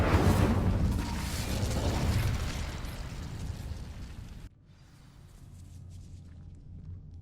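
An Incendio fire spell igniting dry vines in Hogwarts Legacy: a loud roaring whoosh of flame that slowly fades, then cuts to quieter ambience.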